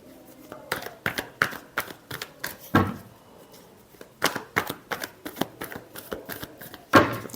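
Tarot cards are shuffled by hand close up, a run of quick crisp riffles and flicks in uneven bursts with short pauses between them and no speech.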